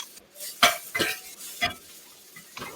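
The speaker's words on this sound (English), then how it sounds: "All right, I'm getting a little sizzle now." Vegan meat substitute cooks in a pan with soft sizzling under repeated scraping and stirring strokes of a utensil against the pan, close and moderately loud.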